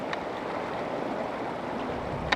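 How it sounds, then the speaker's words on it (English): Water rushing under the hull of a cruising boat, a steady low wash and hiss at moderate level, with a couple of faint clicks and no voices. "It's just the water under the hull."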